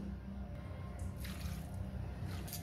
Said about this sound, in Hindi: तो चलिए मैं इसमें थोड़ा पानी डाल देती हूँ